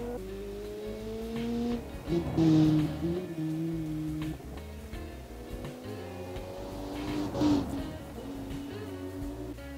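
Several race cars in the car-building game Automation sweep past during a turbo championship final, engines droning and shifting pitch as they accelerate and pass, with swelling louder passes around two and eight seconds over a steady mechanical hum.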